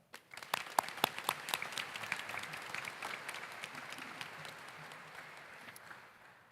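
Steady applause from a commencement audience welcoming the stage party, many hands clapping in a dense crackle that starts sharply, holds, then slowly thins toward the end without any talk.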